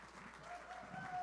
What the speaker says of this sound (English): Give yourselves a round of applause for the difference we made tonight for Byron Saunders Foundation.